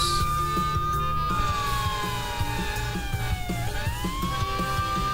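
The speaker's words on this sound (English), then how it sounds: "Within a few seconds, a police siren is playing from its speakers." A police siren plays loud and continuous from a phone speaker, its wailing tone sweeping down and then back up, over a steady low background.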